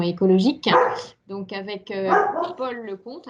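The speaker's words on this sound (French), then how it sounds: "Ah, excusez-moi, c'est mon chien." A dog barks in short yips during an indoor French conference talk, the sharp barks mixed in with the speaker's voice.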